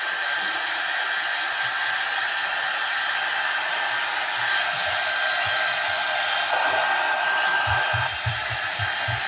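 A hair dryer runs steadily and close by, blowing on wet paint on a white snowman craft, with a constant whine that holds for the whole stretch and a few low bumps near the end.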